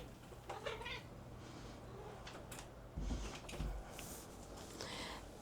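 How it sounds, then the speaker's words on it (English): A cat yowls at a door with a few drawn-out meows, heard moderately close, alongside some light knocking or scuffing sounds in a quiet room. "I have a yelling cat at my door"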